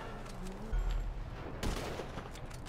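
Shots ring out in a video game shooter, a dense crackling volley with a few heavier booming hits over a busy background of game noise, fairly loud and continuous.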